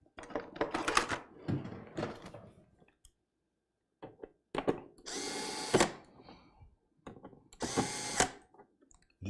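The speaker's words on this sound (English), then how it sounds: "I should use my screwdriver for this" A screwdriver tightens thumb screws on a Gigabyte Z390 M Gaming motherboard, giving bursts of ratcheting, scraping mechanical clicks with short pauses between them, close up and fairly loud.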